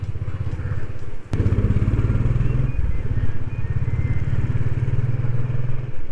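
A motorcycle weaves through dense traffic on a Delhi road during the first day of a coronavirus lockdown, its engine droning steadily and close for the whole stretch, with a sharp knock early on.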